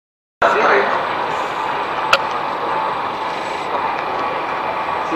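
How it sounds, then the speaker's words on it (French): Trenitalia Frecciarossa 1000 high-speed train heard as a steady, loud broadband rush with a brief sharp click partway through, continuous for several seconds without a break. "c'est le train rapide."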